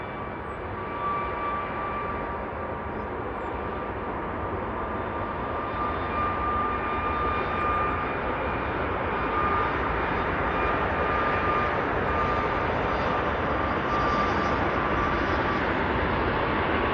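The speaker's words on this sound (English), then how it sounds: "That was a lovely landing there from the A380" An Airbus A380 lands at Manchester Airport: a broad, steady roar of engines and rushing air holds for many seconds, heard from a distance with a faint whine running through it.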